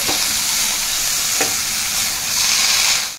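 Spinach stir-fried in a hot pan for spinach onion curry, a loud continuous sizzle with a couple of sharp utensil scrapes against the pan.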